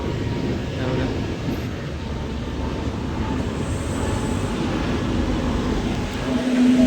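A train rumbling past near Lalbaug Parel in Mumbai, a continuous low, loud roar that holds steady for several seconds and swells slightly toward the end, with faint voices mixed in.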